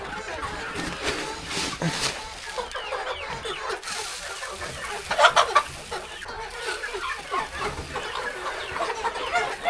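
Farm chickens cluck steadily at close range on a farm house morning, with clucks rising and falling and a louder burst partway through; a person talks over the birds throughout.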